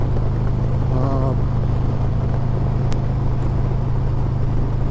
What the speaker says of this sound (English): I don't know if you can hear that wind. This is an old helmet, you guys.